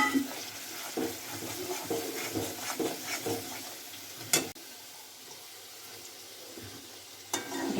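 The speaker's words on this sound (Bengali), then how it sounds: "তেল যতক্ষণ ছাড়ছে না ততক্ষণ একটু ভালো করে কষিয়ে নেওয়া হচ্ছে।" Coriander and cumin paste, ground on a stone slab, fries in oil in a kadai: a continuous hissing sizzle with soft stirring scrapes and occasional sharp clinks of a spoon against the pan.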